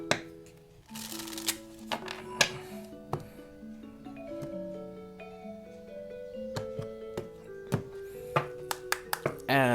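Oracle cards shuffled and snapped by hand during a tarot-style reading, crisp riffling bursts and sharp taps up close, with a voice speaking throughout and a soft melodic tone underneath.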